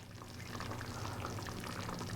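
Starchy pasta water is poured into a creamy cheese sauce, a soft continuous liquid trickle and bubbling sizzle at low volume with no speech.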